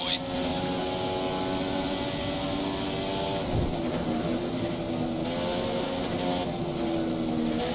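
Formula 1 car engine in the F1 2015 racing game at Silverstone, a steady high-pitched droning whine held continuously throughout with slight pitch shifts, loud and unbroken, with a radio voice talking faintly over it.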